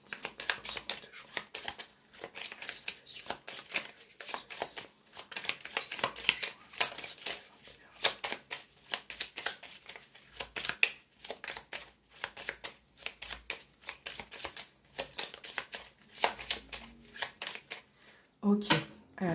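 Tarot cards being shuffled and handled up close: soft, rapid papery riffles and flicks in irregular bursts at low volume, with a brief sound near the end.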